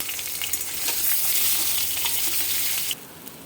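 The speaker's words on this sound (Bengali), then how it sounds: "সেদ্ধ আলু ভাজবো।" Boiled potatoes fry in hot oil tempered with cumin seeds, making a loud, crackling sizzle with stirring sounds that drops off sharply near the end.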